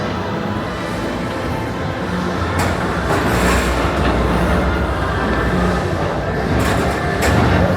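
The Magic Kingdom PeopleMover ride train rolls along steadily at night, a loud continuous rumble and whoosh of wheels on track with faint squeals, no one speaking.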